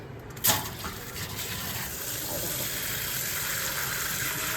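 Water gushes into a bowl to soak urad dal, starting with a sharp splash and then a steady close filling stream that runs to the end.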